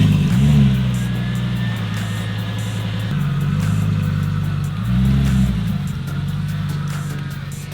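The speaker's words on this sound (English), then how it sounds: "How about a cold start?" A 2021 Dodge Charger Scat Pack V8 rumbles loudly and close at cold start, with a deep steady idle and two brief rev swells, no talking.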